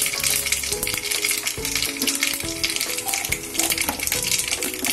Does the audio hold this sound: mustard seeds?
yes